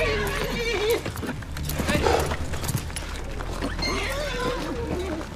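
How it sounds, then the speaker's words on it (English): A riderless horse arrives in a Game of Thrones scene at the Wall, with clip-clop hoof beats and a neigh amid steady background noise and speech-like sound throughout. "he saw a solo riderless horse come into the wall"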